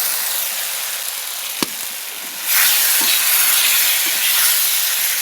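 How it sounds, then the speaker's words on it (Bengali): Fried potatoes, flat beans and eggplant tipped into hot oil and spice paste in a pan, giving a loud steady sizzle that swells after a brief clatter, with no talk. "এবারে দিয়ে দিচ্ছি ভেজে রাখা আলু, সিম আর বেগুনটা"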